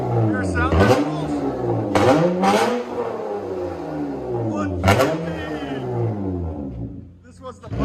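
A 2007 Acura TL Type S with its 3.5L V6 and a 1.5-inch exhaust pipe revs hard several times, giving loud, raspy rising and falling blips. Someone talks over the engine throughout.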